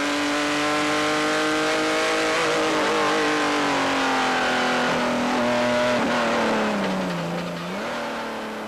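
Race cars accelerate at Lime Rock Park in Connecticut, a loud sustained engine roar with rising and falling pitch as the cars pull away into the evening.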